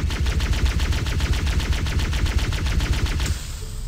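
Plasma pistol in a Halo video game firing a rapid, even stream of punchy electronic shots with slight echo. The shots run loud and continuous, then cut off near the end.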